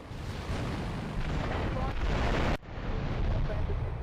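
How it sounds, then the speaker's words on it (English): Gunfire in GTA3 outside the airport: a dense, continuous barrage of shots and blasts with a rumbling low end, cut by a brief drop near the middle before the heavy firing resumes. "You pull up outside the airport and shoot it like this."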